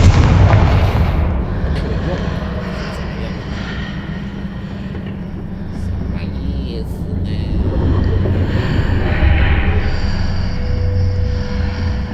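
A Confringo spell blast goes off in Hogwarts Legacy as a heavy, booming explosion, followed by a sustained low rumble and roaring noise that fades and swells over several seconds.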